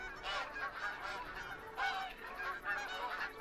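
Geese in the hunting game theHunter Call of the Wild, in the Hirschfelden reserve, honk repeatedly in a flock, with a steady run of overlapping nasal calls at moderate distance and no talking.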